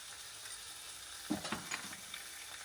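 Chicken curry masala with chili and coriander powder frying in a pan, a soft steady sizzle with a few brief stirring scrapes, quiet and close.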